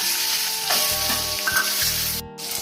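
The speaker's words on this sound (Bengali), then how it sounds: "তারপর দিয়ে দেবো ডিমগুলো একটু ভেজে নেবো।" Boiled eggs frying in hot oil seasoned with salt and turmeric, a close, steady sizzle with bursts of crackling and a brief dip near the end, no talk.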